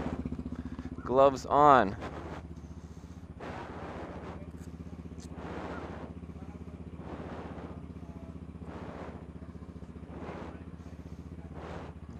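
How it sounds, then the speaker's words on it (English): A Tianda TDR300 dirt bike engine idles steadily at Mission Raceway with a low, even throb and periodic swells, heard close from a helmet cam; a voice speaks briefly near the start. "no music. Straight dirt bike. Sound of the moto."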